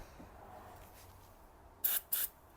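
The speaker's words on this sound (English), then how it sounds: "give that a little bit of spray" Two short hissing bursts of aerosol spray onto a seized motorbike brake caliper, close by, one right after the other, against a quiet background.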